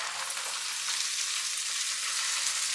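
Gongura leaves frying in peanut oil, a steady, bright, close sizzle that holds evenly throughout, with no voices.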